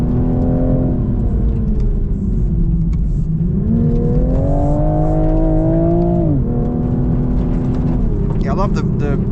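A 2025 Toyota GR Supra drives through a corner with its engine whirring and revving, the pitch rising and falling steadily, loud and close throughout, with a person talking over it.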